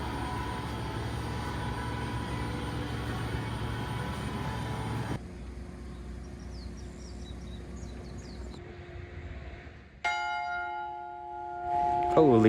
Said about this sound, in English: Found this bell tower right next to the cyclist sanctuary.